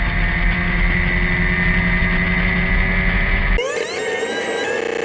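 A race car engine running rough at Kirkistown circuit during a Sevens Challenge race, a loud, continuous and uneven drone that shifts abruptly in tone partway through.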